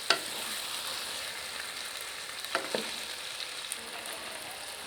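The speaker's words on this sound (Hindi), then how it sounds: "ये देखें चिकन अच्छी तरह से भुन रहा है" Chicken pieces fry in a pan for dhaba-style karahi, a steady close sizzle with occasional light scrapes and taps as it is stirred, no one speaking.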